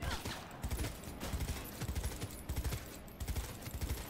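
Semi-automatic gun fire in Cyberpunk 2077: repeated rhythmic shots pulse through a dense, busy game soundscape, fairly quiet overall and without clear talk.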